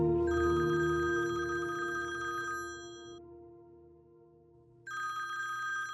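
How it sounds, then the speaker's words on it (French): A telephone rings with a loud electronic bell tone in two bursts separated by a short pause, nearby and alone without talk. "Ton téléphone sonne."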